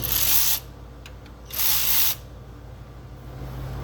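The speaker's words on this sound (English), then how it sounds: "this Hyper Tough ratchet They are awesome for the price" A Hyper Tough ratchet works on the crank bolt of a 2012 Dodge Durango 5.7 during a harmonic balancer and crank seal job, giving two short, close, harsh bursts of rapid clicking about a second apart over a low background hum.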